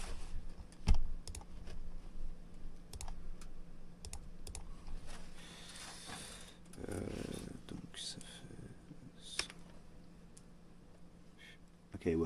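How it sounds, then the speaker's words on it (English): Computer keyboard typing, a scatter of quick clicky keystrokes in short irregular bursts, fairly close, with a quiet voice speaking in the background partway through. "Okay, it works. Wonderful. My keyboard works."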